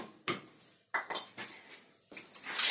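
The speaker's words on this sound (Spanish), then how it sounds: "Le echamos un poquitín de aceite a la sartén." Oil goes into a frying pan while cooking meat pie with vegetables, heard as a few light metallic clinks and scrapes of utensil and pan, close and fairly quiet, with no talking.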